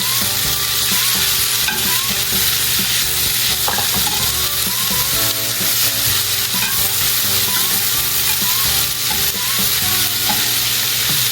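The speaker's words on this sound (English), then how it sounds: "We'll also throw in our mushrooms." Mushrooms sizzle and fry steadily in a hot pan while being stirred, with scraping and clinking of the utensil over a continuous loud frying hiss, no voices.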